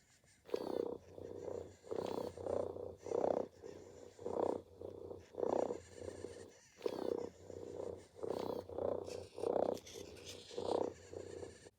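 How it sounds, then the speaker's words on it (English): A Joy for All robotic pet cat purrs in a steady rhythmic series of low, buzzing pulses, about a dozen rounded swells that come close together and stay fairly loud, with no voices over them. "So this is the Joy for All cat's purr."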